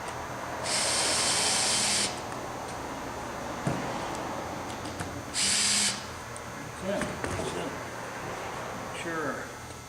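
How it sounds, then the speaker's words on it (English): A power drill driving screws into a fish-shaped chair seat whirs in two steady bursts of about a second each, with light knocks and handling noises between them. "screws are down, and eventually I will get them all the way down where they need to be"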